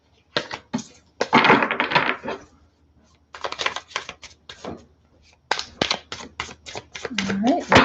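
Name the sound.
shuffling a deck of tarot cards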